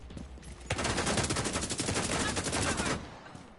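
A long, rapid burst of automatic gunfire in The Division 2 rattles loudly for over two seconds after a brief quiet lead-in, then cuts off abruptly, with no talk.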